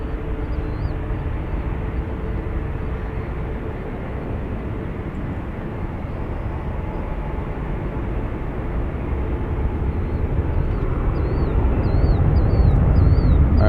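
Alaska Airlines jet from Portland touching down at San Francisco airport, heard as a broad, steady roar of engines and rushing air that swells louder toward the end, with faint chirps overhead.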